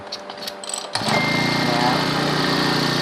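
A Makita four-stroke brush cutter engine sputters to life after a brief rustle and settles into a steady, high-pitched buzzing idle close by.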